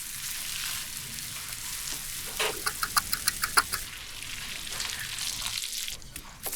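Flour-coated pork ribs fry in melted butter in a pan, giving a steady close sizzle with a quick run of sharp crackling pops midway before settling back to an even hiss.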